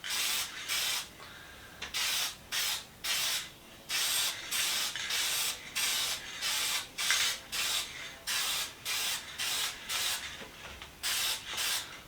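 Spray paint misted in short bursts onto a square, a close hissing spray repeated roughly every half second in an even on-off rhythm, fairly soft with no voices.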